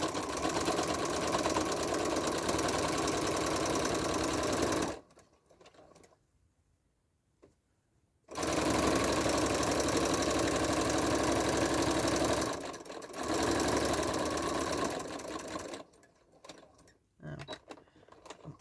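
Sewing machine stitching binding onto a quilt, running in long steady bursts of rapid mechanical chatter separated by quiet pauses, with shorter stops and restarts toward the end.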